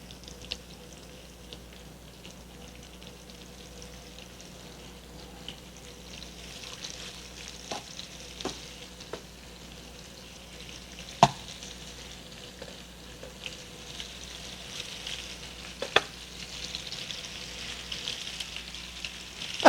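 Pork tenderloin medallions, seasoning side down, sizzle in warm oil in a pan: a steady, soft frying hiss with scattered pops and small clicks throughout.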